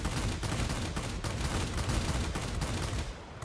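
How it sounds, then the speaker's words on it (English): Dense, continuous machine-gun fire from a B-17G's .50 caliber guns in the World of Warplanes aerial combat game, a loud steady rattle of rapid shots lasting several seconds before tapering slightly at the end. "Alright, so we've got a B-17G coming up here."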